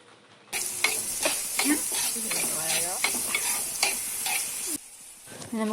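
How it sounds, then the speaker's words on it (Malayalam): Coconut pieces and onion sizzle steadily in a pan for a Kuttanad-style backwater prawn curry, with repeated scraping stirs of a spoon close by. "എല്ലാം കൂടെ നന്നായിട്ടൊന്ന് വാട്ടിയെടുക്കാം."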